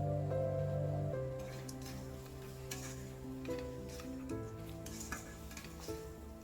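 Fried fish head being stirred into mung dal in a pan, giving a soft sizzle with scraping and clinking of a spoon against the pan, faint and close, no talking.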